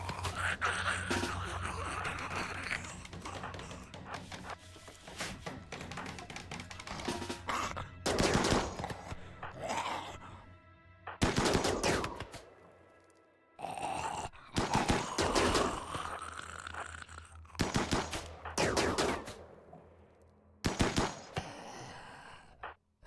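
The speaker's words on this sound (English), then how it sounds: "Redfield's starting to fire on them" Gunfire in the video game RimWorld, with repeated bursts of rapid shots in separate volleys spread over about twenty seconds and quieter gaps between them.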